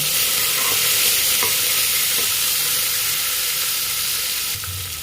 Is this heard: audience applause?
no